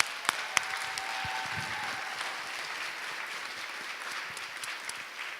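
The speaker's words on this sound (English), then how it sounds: "So please join me in a round of applause." An audience gives a round of applause at a prison education panel event, continuous moderate clapping with a couple of sharp claps near the start, no speech.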